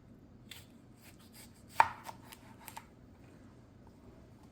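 A knife slices through a Black Beauty beefsteak tomato, giving a few crisp, close cuts with one sharp chop standing out near the middle, set against quiet kitchen background.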